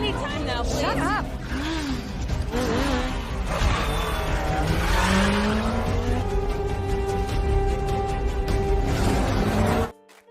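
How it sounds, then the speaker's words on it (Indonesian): A car chase and crash from the film Black Widow (2021), with revving engines and squealing tires over a dense action soundtrack that is loud throughout, while voices speak over it, then it cuts to near silence at the end. "Mobil mereka pun terbalik setelah ditabrak oleh mobil Taskmaster, dan mereka tetap melanjutkan melarikan dirinya."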